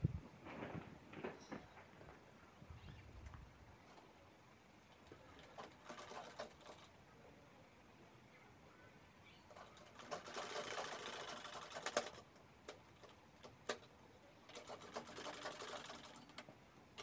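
A sewing machine stitches the side seam of a fabric tote bag in a series of short whirring bursts. The bursts are separated by quiet pauses and come through loud and close, with no speech.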